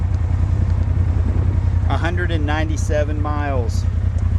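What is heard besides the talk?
2016 Polaris RZR 1000 Turbo engine running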